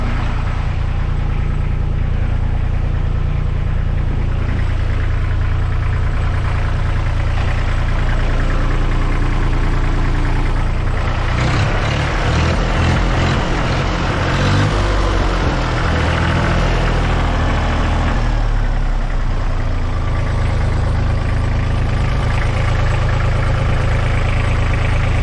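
Thwaites 2-ton dumper engine running steadily, loud and close, a continuous low chugging idle with a rougher, knocking stretch in the middle before it settles back to an even throb.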